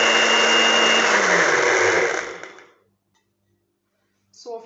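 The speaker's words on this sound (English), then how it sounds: "this is how well my blender was able to crush the spices" An electric blender grinds whole spices including cloves for a homemade hair growth oil, a loud, steady whirring roar that runs for over two seconds, then cuts off and fades to silence before a brief clatter.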